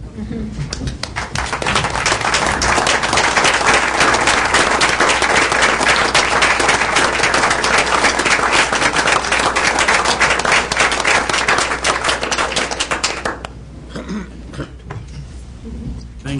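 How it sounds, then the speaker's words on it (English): A city council meeting audience rises for a standing ovation, with loud sustained clapping from many hands for about thirteen seconds, then it quickly thins to scattered claps and low room noise. "we're all going to stand and applaud you"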